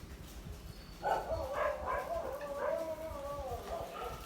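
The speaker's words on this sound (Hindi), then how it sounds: "यहाँ पे कोई आया होगा इसलिए भौंक रहे होंगे." Dogs barking and yelping somewhat distantly, a drawn-out whining howl-like stretch, with no voices over it.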